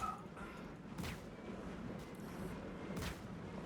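Star Citizen ship weapons hit a ship hull as distant, muffled thuds. Two faint impacts land about two seconds apart over a continuous low engine drone.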